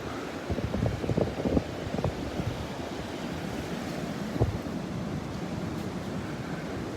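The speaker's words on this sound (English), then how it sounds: "the waves are really starting to come up here now" Ocean waves wash steadily onto the beach at Delnor-Wiggins on a windy morning, a continuous broadband roar with a few louder surges and some wind buffeting on the microphone, no voices.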